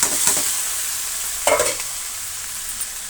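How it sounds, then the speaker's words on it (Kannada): Vegetables frying with onion in a pan, sizzling steadily while a spoon stirs and scrapes through them, with one sharper clatter partway through. "ಈಗ ಇದನ್ನು ತೇವಾಂಶ ಹೀರ್ಕೊಳ್ಳೋ ತನಕ ನಾವು 1 ನಿಮಿಷ ಇಲ್ಲ 2 ನಿಮಿಷ ಫ್ರೈ ಮಾಡ್ಕೊಳ್ಳೋಣ"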